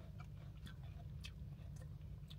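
Crisp bites and steady chewing of a crunchy Pure Envy apple, several sharp crunches at irregular intervals, close up over a constant low rumble of outdoor background noise near a train station.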